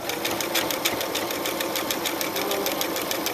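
A sewing machine stitches a free-style appliqué outline in a fast, steady mechanical whir with even rhythmic needle clatter, close and continuous and with no talking.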